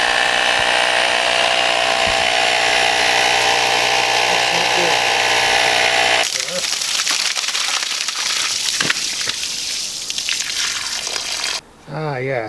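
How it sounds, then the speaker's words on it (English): A small tire inflator pump runs close by with a steady buzzing drone while pushing air into a car's radiator cooling system. The drone cuts out partway through, leaving rougher, uneven mechanical noise. "it comes with this nifty little tire inflator"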